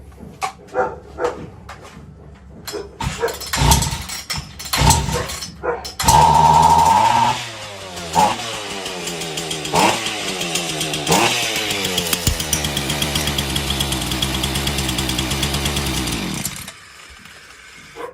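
A Husqvarna 120 chainsaw with a fuel-leaking carburetor is pulled several times, catches at full throttle and roars loud and close, its engine note rising and falling before cutting off. A dog barks during the first pulls.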